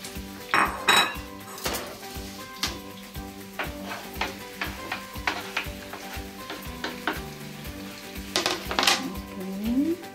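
Onions cooking in a pan for bigoli in salsa, with a steady sizzle under repeated clinks and scrapes of a utensil stirring against the pan, close and fairly loud, no talk.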